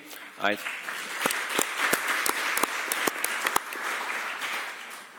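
Audience applause for a speaker on a Universal Health Coverage panel at the World Health Summit 2016, a steady wash of clapping with a few sharper claps standing out, following a brief voice at the start.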